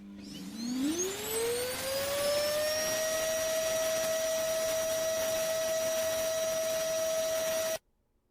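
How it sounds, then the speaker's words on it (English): A vacuum cleaner motor spins up and settles into a steady high-pitched whine that holds constant for several seconds, then cuts off abruptly. "let's listen to a vacuum cleaner."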